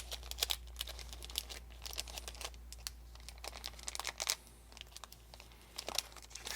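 A packet of macadamia blossom honey sticks, eight vials, being cut open: close, quiet crinkling and snipping of plastic packaging in short irregular bursts, no talking.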